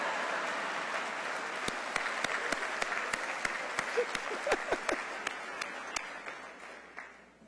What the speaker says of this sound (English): Give Bailey Dickens a round of applause.